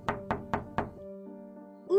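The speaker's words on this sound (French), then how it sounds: "Pour la 3e fois, le loup arriva à la porte de la petite maison et frappa." A cartoon wolf knocks on the door of a little house: four sharp, evenly spaced knocks, loud and close, followed by a sustained musical tone.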